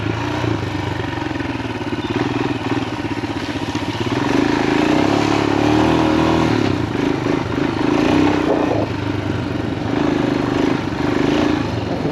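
A Royal Enfield Himalayan 462 big-bore motorcycle is being ridden, its engine droning steadily and loud throughout, with wind buffeting, and it swells a little louder partway through.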